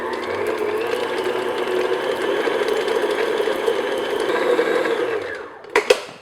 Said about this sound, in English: just beat this on like medium speed just until it's nice and creamy and smooth